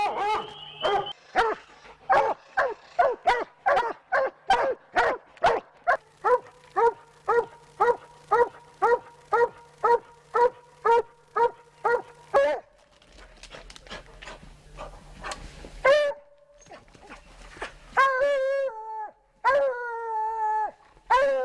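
Hunting dogs bay and bark at a coon tree in a long run of rhythmic, closely spaced barks, then a stretch of mixed yips and howling cries, loud and close with no talk.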